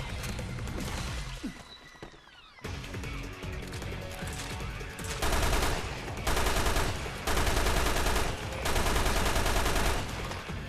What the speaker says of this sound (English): Machine gun rounds.